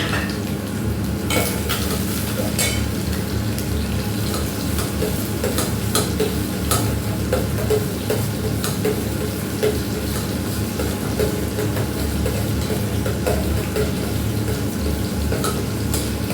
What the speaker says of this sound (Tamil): ஆனியன் கோல்டன் கலர் வர வரைக்கும் நல்லா வதக்கிக்கோங்க.